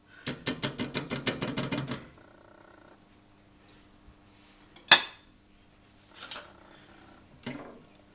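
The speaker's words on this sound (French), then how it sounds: "Je mélange mes pâtes dans ma sauce." Metal utensil scraping and clinking against a dish while macaroni is mixed into a cheese sauce, a quick run of about ten rhythmic taps first, then a few separate louder scrapes, close and alone.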